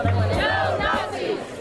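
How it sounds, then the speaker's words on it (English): Angry crowd chasing a man down a street, a dense roar of shouting and yelling voices, loud and continuous throughout. "an angry crowd soon descends on him, and he is literally chased down the street"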